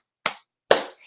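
Two crisp, isolated hand claps ring out about half a second apart, each sharp and close with a brief decay, meant as clapping practice along to music at a set tempo.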